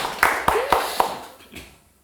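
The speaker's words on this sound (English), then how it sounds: "Fast clap." A quick run of four sharp hand claps comes up close, then a fainter fifth clap follows, with a lively indoor ring after each one.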